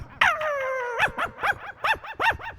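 A man mimics two dogs barking and fighting: a long rising whine followed by a rapid series of snappy yips and barks in uneven bursts, close and loud with no speech.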